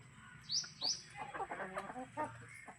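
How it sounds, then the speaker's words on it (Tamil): Traditional Tamil Nadu native country chickens give two sharp high calls, then a run of close, busy clucking and chattering that carries on steadily to the end. "எல்லாமே தரமான நாட்டுக்கோழிங்க"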